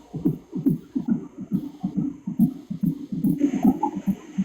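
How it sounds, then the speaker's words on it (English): A heartbeat heard as a steady run of soft, muffled low thumps, about two beats per second, fairly loud and close with a faint high hum behind it. "Is that my heartbeat?"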